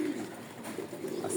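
Domestic pigeons coo softly while the flock flies on a windy day after morning rain, a faint, steady murmur with a low hum underneath and no voices.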